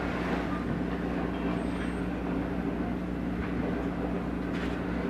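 Steady train running on rails, a continuous low rumble with droning tones and faint clatter, moderately loud and unbroken throughout, with no talk over it.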